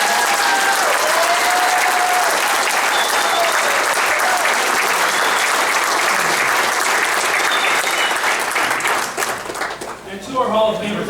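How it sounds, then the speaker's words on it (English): Sustained, loud applause from a crowd at a college athletic Hall of Fame induction ceremony, steady for about ten seconds, with a voice speaking over it near the end. "Please, nice round of applause."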